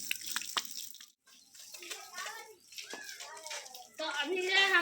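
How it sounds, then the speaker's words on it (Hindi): Water splashing and spraying from a hose pipe to cool down in hot weather, a steady close wash of sound, with children and an adult talking over it. "अब जो है हम इधर पानी लगा रहे हैं क्योंकि गर्मी बहुत ज़्यादा है।"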